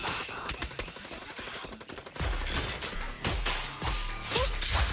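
Rapid bursts of automatic gunfire from enemy gunners in a video game, with crashes and whooshes mixed in, loud and continuous at close range.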